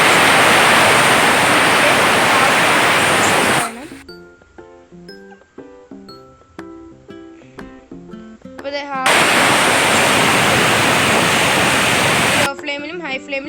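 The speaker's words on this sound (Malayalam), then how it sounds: "ലോ ഫ്ലെയിമിലും ഹൈ ഫ്ലെയിമിലും നമുക്ക് വിസിൽ വന്നു കഴിഞ്ഞു." A pressure cooker whistles while chicken kabsa cooks: two long, loud bursts of steady, rushing steam hiss, separated by a quieter stretch of clinks and tonal sounds.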